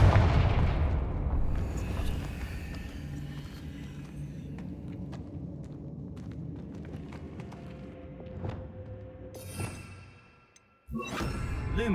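Confringo fire spells blast in the game Hogwarts Legacy: an opening heavy rumbling boom fades into a crackling, ticking tail, with a sharper whooshing burst near the end after a brief drop to near silence.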